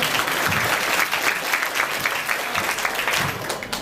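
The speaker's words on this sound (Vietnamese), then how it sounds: "Xin em kêu một tràng vỗ tay được không?" An audience at a year-end community gathering applauds steadily, dense even clapping that stays loud and close from start to finish.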